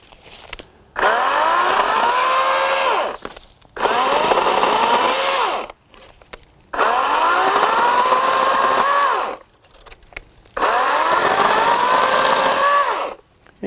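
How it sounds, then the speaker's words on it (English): Battery-operated chainsaw doing small cleanup cuts, revving in four loud, close bursts of two to three seconds each, separated by short near-silent pauses. "this to me is what you'd be taking care of with a battery operated chainsaw"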